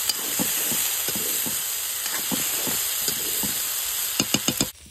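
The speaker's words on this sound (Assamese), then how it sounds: "এখন ভাজি হয়" Potato stir-fry sizzling steadily in a pan, a constant bright hiss with a series of soft scraping stirs and a few sharper clacks near the end, close and alone.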